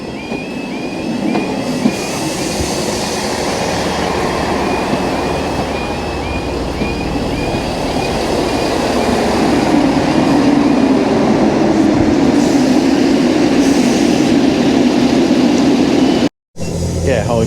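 A train to Harlech runs steadily with a loud rumbling roar and rhythmic wheel noise, a constant ride sound with a brief dropout near the end.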